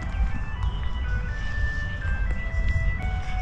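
Ice cream truck jingle drifting across a Chicago park, thin tinkling melody heard at a distance over steady outdoor background noise.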